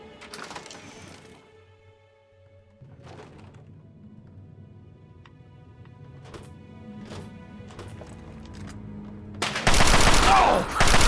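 Chinese assault rifles fire in Fallout 3 on very hard difficulty, heard as sharp separate cracks spread across a quieter stretch with a faint steady hum beneath. A loud, dense burst of fire hits near the end.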